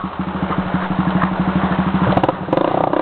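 Dirt motorcycle chugging at low revs in a fast, even pulse as it crosses a small stream off-road in a mud-riding outing, close and loud, with a brief rev and rattle near the end.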